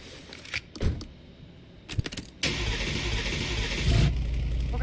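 A Ford Taurus engine in Car Mechanic Simulator 26 cranks a few times, then catches and settles into a loud, steady idle with a revving swell.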